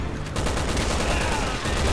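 Dense gunfire in the video game Resident Evil 6 rattles in a continuous, loud burst of rapid shots lasting about two seconds, with a faint voice underneath.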